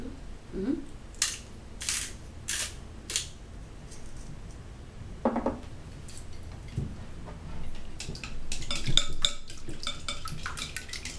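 Eggs whisked with chopsticks in a bowl for Japanese tamago, quick bursts of clicking and tapping against the bowl, with short pauses and a voice speaking briefly.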